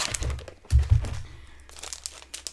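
A small plastic bag holding a pack of paint brushes crinkles and crackles close up as it is opened, with a couple of louder rustling bursts followed by softer handling.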